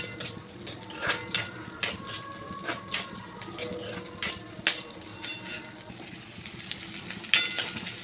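Green chilies sauté in hot oil with a continuous close sizzle, broken by repeated scraping and clinking of a utensil stirring in the pan.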